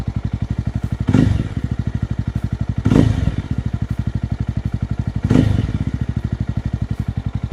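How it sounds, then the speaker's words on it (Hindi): A 2024 Jawa 350 motorcycle engine idles with a steady rapid putter, then revs up in three short bursts spaced a couple of seconds apart, close by. "एंड अगर थोड़ा मैं रिफ करता हूँ बाइक को"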